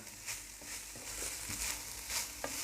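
Minced meat sizzles steadily in a hot pan as a spoon stirs and breaks it into smaller pieces, with soft scraping strokes over a constant frying hiss, close up and without speech.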